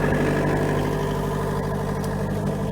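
The port engine of an Endurance 650 boat idles just after starting, heard from inside the engine room as a steady, even low hum and drone with a constant level throughout.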